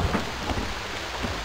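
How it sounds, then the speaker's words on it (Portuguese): Rain in the survival video game Stranded II makes a steady, even hiss of falling water throughout, with a low rumble underneath and no talking. "não vai dar pra acender a tocha porque tá chovendo"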